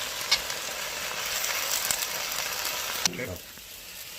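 Eggs seasoned with black pepper sizzle steadily in a hot pan for Thai drunken noodles, a close, even hiss that cuts off abruptly near the end, with a couple of sharp clicks.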